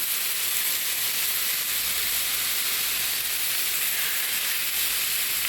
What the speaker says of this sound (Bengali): পেঁয়াজ পেস্ট এবং আদা রসুন একটু ভেজে নিব